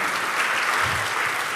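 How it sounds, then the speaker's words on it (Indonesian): A church congregation bursts into applause during a Protestant sermon, a thick, even roar of clapping from many people that holds steady throughout, with no voice over it. "Beri tepuk tangan."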